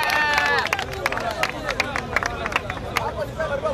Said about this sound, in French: Applaudissez très fort sur le chef.